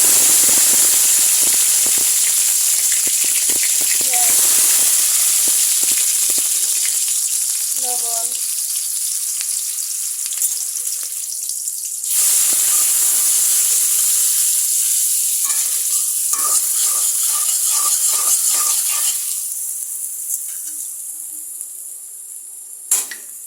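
Garlic paste hits a hot pan and sizzles steadily while fish curry with Malabar spinach is being cooked, a bright continuous hiss with some stirring and clinks, fading somewhat toward the end.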